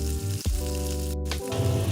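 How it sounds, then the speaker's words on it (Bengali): Breaded bhetki fish fillets fry in hot oil, giving a close, continuous sizzle with brief crackling breaks. "তেলটাকে ভালো করে গরম করে তার মধ্যে দিয়ে"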